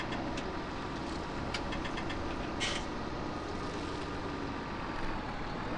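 A Massey Ferguson tractor engine idles steadily in Farming Simulator 17, a constant mid-range rumble with a faint knocking texture and a few brief light clicks over it, holding at an even level throughout.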